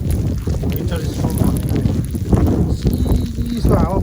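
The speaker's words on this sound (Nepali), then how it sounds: "चिसो हावा पुरै मुठी छेड्ने खालको मान्छेले ढल्छ यसले त।" Cold wind during a winter storm with heavy snowfall, roaring and buffeting loudly against the microphone in uneven gusts, with a person talking over it.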